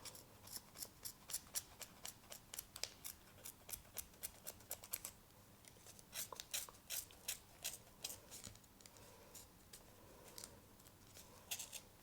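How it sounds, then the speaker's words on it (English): Scissors snip through the yarn ends of a pom-pom being made for a bunny rabbit craft, a quick run of close, crisp cuts that pauses briefly midway before resuming, with no talking. "try not to pull the yarn out of your pom-pom as you're snipping it"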